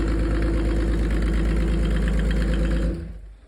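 A Mercedes OM606 diesel engine with a mechanical injection pump idles close by, a loud, steady, rumbling clatter that cuts off near the end as the engine shuts down and winds to a stop.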